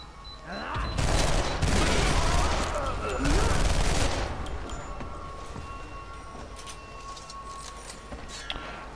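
Video game gunfire from F.E.A.R. 3 crackles in two dense, loud bursts over about four seconds, then fades to a quieter ambience with faint scattered sounds, and a voice is faintly present underneath.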